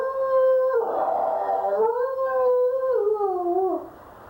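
A human voice imitates a dog howling at a garbage disposal: one loud, drawn-out, wavering howl that rises and falls in pitch for nearly four seconds, heard close and alone before it cuts off.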